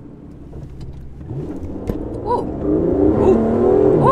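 A rare Aston Martin Cyrus surges off the line, its engine revving and building steadily in pitch and loudness, close and strong, while a person briefly exclaims over it.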